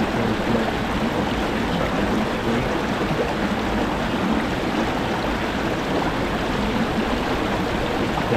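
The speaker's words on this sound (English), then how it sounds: "I think it's Arnfield Brook." Arnfield Brook in the Peak District, a steady broadband rush of flowing water, constant and fairly close with no voices.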